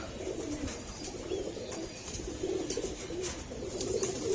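Wet pigeons, freshly bathed to cool them, coo repeatedly in a steady low throbbing rhythm, several birds close by and overlapping with no talk.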